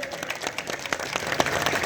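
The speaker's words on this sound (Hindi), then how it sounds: "जोरदार तालियां इनके लिए बजा दीजिए" A small crowd at a street-corner BJP election meeting for a ward 39 councillor candidate claps in a brief, uneven patter of hand claps, moderately close and not very loud.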